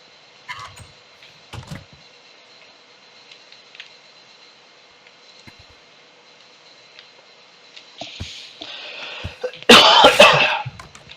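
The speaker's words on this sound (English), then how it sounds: "I apologize for the cough." A single sharp cough bursts out near the end after a long stretch of quiet room hum broken by scattered soft clicks.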